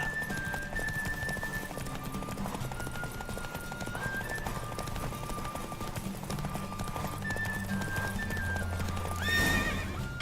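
Horse galloping in a race in The Witcher 3, a steady rapid clip-clop of hooves under sustained game music, with a loud neigh bursting out near the end.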